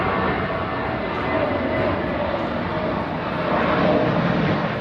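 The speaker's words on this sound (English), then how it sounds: "I am tired of competing with these airplanes." Airplanes pass overhead above a boat with new Yanmar engines on a sunny day, giving a loud, continuous broadband roar that swells slightly toward the end, with no clear speech.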